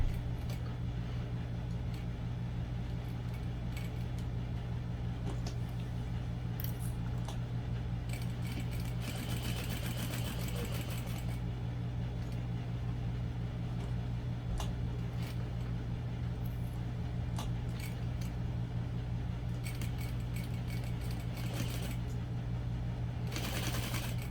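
A sewing machine stitches a seam on a barrel bag, a steady fast humming whir running for a long stretch with brief changes in pace and light mechanical clicks, close and even, with no talk.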